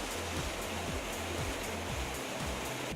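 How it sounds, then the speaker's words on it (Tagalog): A small but powerful waterfall pours inside a cave in Laguna, making a steady, close, full-bodied rushing roar that never lets up. "Hindi ulan, kundi isang mini but mighty strong falls pa lang nandito."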